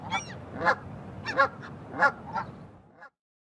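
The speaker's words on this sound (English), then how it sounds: "Canada goose." Canada goose calling, several loud nasal honks in an uneven series, heard close and alone before stopping abruptly.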